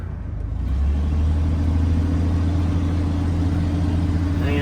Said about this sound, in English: boy, it's got this old truck loaded now.